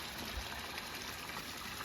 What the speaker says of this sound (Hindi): ये ओखली, पानी से चलने वाली ओखली, वो अंदर कुछ धान की कुटाई हो रही होगी।